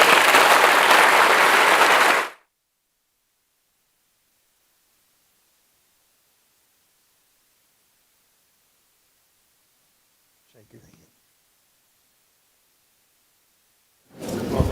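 Audience applause greets a guest speaker at an evening event, a loud, dense burst of clapping that cuts off after about two seconds, followed by long silence, a faint rustle and a fresh swell of applause at the end.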